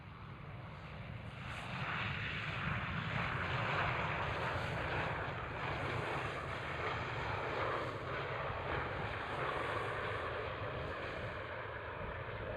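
A German Airways airliner in Deutsche Tourenwagen Masters livery passes at Schiphol Airport, its engines a broad, steady distant roar with wind rumble, sustained throughout with no talking.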